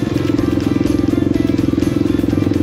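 Suzuki DR350 dirt bike riding on a forest trail, its single-cylinder engine thumping in a fast, steady, loud pulse close by, with no talking.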